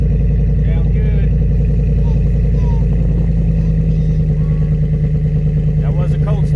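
A 2014 Ford F-150 STX with ported 2018 GT exhaust manifolds idles steadily after a cold start, a loud, deep, rumbling engine note that continues throughout, with faint talk in the background.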